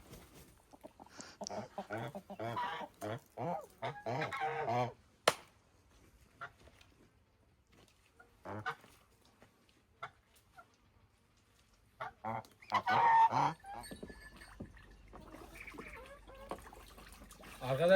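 Geese honk repeatedly in a barn-like cellar, in loud bursts at the start and again near the end, mixed with a man's speech in between.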